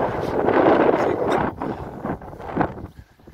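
Strong offshore wind on Skegness beach buffets the microphone in loud, gusty rushes that rise and fall over a few seconds, then ease off at the end.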